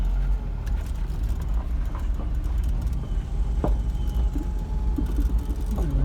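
A Mercedes 190SL driving along at a steady pace, its engine holding a low continuous drone with a few brief shifts in tone as the gears change.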